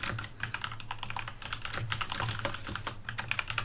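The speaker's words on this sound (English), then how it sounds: "Stupid keyboard." Rapid typing on a computer keyboard during a tabletop Dungeons and Dragons game session, a dense run of clicky, clattering keystrokes at an uneven pace, close and continuous with no talking.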